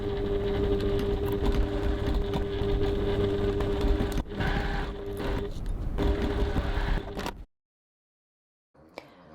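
A sewing machine runs a 1 cm seam around the curve of a crossbody bag: a steady, close mechanical whir that holds for about seven seconds, then stops into silence with a faint clatter near the end.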